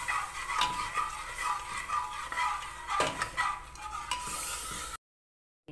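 Chickpea flour browning in a pan is stirred with added water, giving a steady scraping and sloshing with a few utensil knocks against the pan, fairly close and continuous.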